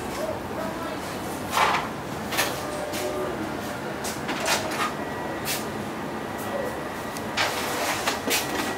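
An envelope printer runs through a job on C10 and 9x12 envelopes, giving a steady mechanical whir with repeated clacks and sliding thumps as each envelope feeds through, fairly close.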